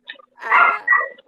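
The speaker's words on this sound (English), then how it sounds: "We've got a busy dog who is barking off there." A dog barks a few times at a distance, in short bursts that rise and fall over about a second, with no talking.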